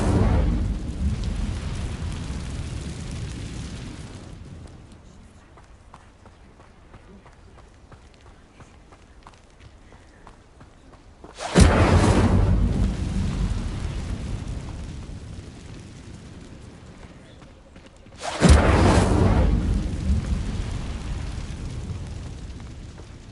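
Roaring bursts of fire from Incendio spells cast in Hogwarts Legacy, two sharp whooshing surges that swell loudly and then fade into a low rumbling tail, with a quieter stretch between them.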